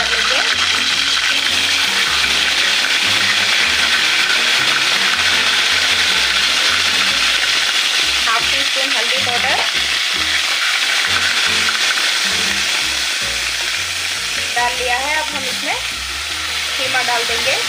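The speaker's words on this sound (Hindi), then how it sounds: "अब हम इसमें 1 टीस्पून अदरक लहसुन का पेस्ट ऐड कर लेंगे।" Ginger garlic paste hits hot oil with dried red chillies in a pan for mutton keema pickle, a loud continuous sizzle and crackle with stirring scrapes running throughout.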